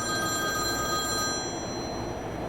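A toy telephone from Spirit Halloween rings with bright electronic bell tones that sound clearly and then cut off partway, leaving faint room noise.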